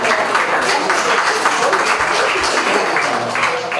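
Applause at a baptism ceremony, a dense, steady clapping from a gathered crowd that fills the room for several seconds at fairly high volume.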